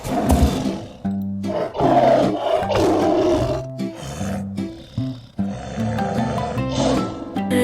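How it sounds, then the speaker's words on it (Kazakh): A tiger roars in several deep, loud, growling bursts that rise and fade across the clip, sounding close, with brief gaps between calls and no talking. "Жолбарыс қандай дыбыс шығарады?"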